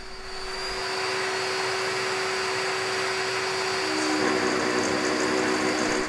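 A CNC machine drills a 5.1mm hole in aluminium, a steady loud whining drone with a constant high tone that shifts slightly near the end, close by and without talk.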